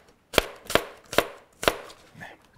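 A knife slices through an apple in four sharp, evenly spaced cuts, each a crisp crunching snap, close up, with a fainter fifth cut at the end and no talking.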